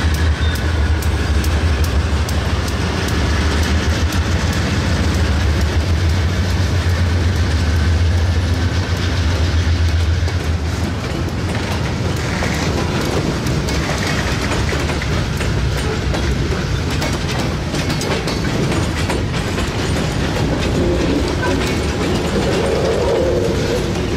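A Nashville & Eastern Railroad train runs toward Cookeville, its loud continuous rumble and rolling wheel noise steady throughout with rhythmic clickety-clack over the rails and a deep low drone, close by and alone without voices.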